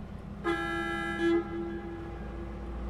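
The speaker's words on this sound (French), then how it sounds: "J'ai envie de klaxonner." A truck horn sounds in the Euro Truck Simulator video game while driving in Austria, one steady blast followed by a brief louder second toot, up close over the low engine hum.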